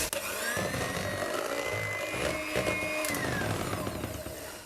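An electric mixer whips coffee-flavoured cream for a cake at higher speed, a steady close whirring drone that runs unbroken throughout with slight shifts in pitch as the beaters move.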